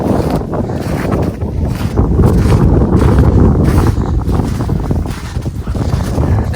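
Strong wind sweeps across an open field in winter, buffeting the microphone with loud, gusty roaring rumbles that surge and ease throughout, with no voices heard.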